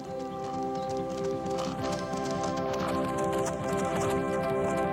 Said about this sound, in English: Isn't that a horse I hear?